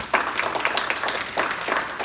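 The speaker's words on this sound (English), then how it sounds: "if I can have a big round of applause for Jay Tomkins" An audience at an America First Republicans gathering in Hillsdale County applauds as Jay Tomkins is introduced. The clapping is fairly faint and somewhat distant and continues throughout the short stretch.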